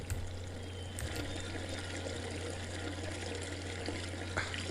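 Water being poured in the video game Gabriel Knight 3, a steady splashing stream running for several seconds over a low constant hum, with no speech.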